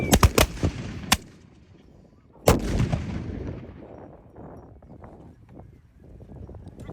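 A gunfire volley: a quick cluster of sharp cracks opens, a lone shot follows, then a heavy blast midway booms and rolls off into a long, echoing rumble that fades slowly.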